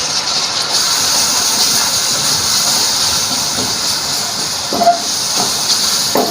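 Chopped tomatoes dropped into hot frying masala for sultani dal, giving a steady loud hissing sizzle that fills the whole clip, with a few small pops and spits near the end.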